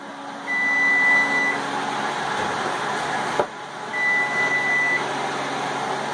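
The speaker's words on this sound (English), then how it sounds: "Turn off the timer." A kitchen timer beeps during baking of s'more bars: two sustained electronic tones about a second long and a few seconds apart, clear over a quiet kitchen hum, with a brief knock between them and no talk.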